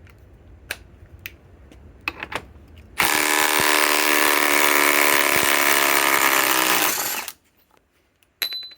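A compact impact wrench, either a Harbor Freight Hercules Gen2 or a Ryobi PSBIW25, fires in one loud, sustained hammering burst of about four seconds between brief clicks and handling noises, then stops abruptly.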